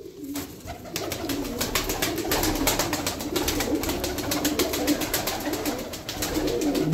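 Pigeons coo steadily in a low, throaty murmur, with constant fluttering and scratchy rustling from many birds close by in a pigeon loft.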